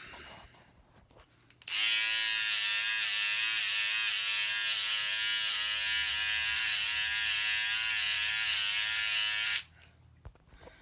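Electric razor shaving a face, a loud steady close-up buzz that switches on abruptly, runs continuously for about eight seconds with slight textural changes as it moves over the skin, then cuts off.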